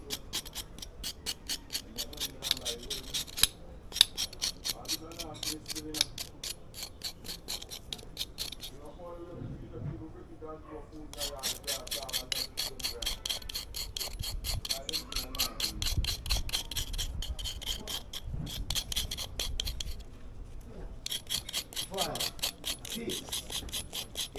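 Charcoal being scraped off roasted plantain in a Jamaican backyard: a steady, rapid rasping scrape running almost throughout, pausing briefly twice, with people talking faintly beneath it.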